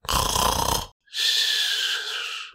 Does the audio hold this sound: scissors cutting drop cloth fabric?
no